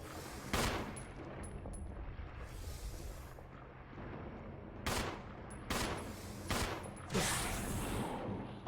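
Sharp, isolated gunshots from the video game Resident Evil HD Remaster ring out one by one at irregular intervals over a quiet, low ambient background.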